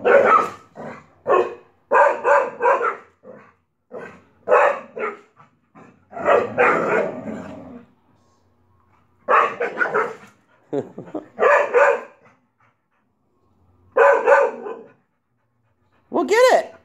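Dogs worry and tear at a new stuffed plush toy, pulling out the stuffing to reach the squeaker, giving short growls, pants and yips in bursts with pauses between, and a person talks intermittently nearby.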